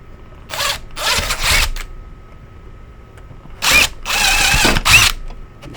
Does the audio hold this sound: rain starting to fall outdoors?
no